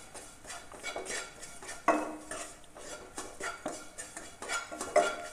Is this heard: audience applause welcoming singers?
no